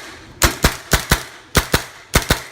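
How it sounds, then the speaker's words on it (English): A Tippmann M4 CQB airsoft rifle fires semi-automatically: eight sharp, close pops in four quick pairs over about two seconds, with short pauses between the pairs. "Tippmann M4 CQB. Let's go with some semi-auto."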